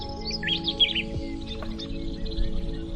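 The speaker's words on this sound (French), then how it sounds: "Chaque matin, la maisonnée s'éveillait au chant des oiseaux" Birds chirp and sing in short, bright bursts early on, then fade to faint calls over a steady low hum in a morning household by yak pastures.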